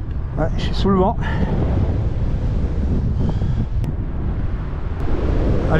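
Wind roars steadily against the microphone at a mountain pass in the Hurtières massif, Savoie, a constant low rumble throughout, with a few brief voice-like sounds early on.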